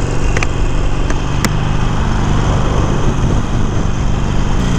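Motorcycle engine while cruising, a loud steady drone with constant low rumble and a few brief clicks early on.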